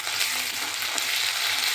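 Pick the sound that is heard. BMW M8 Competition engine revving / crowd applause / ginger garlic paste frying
ginger garlic paste frying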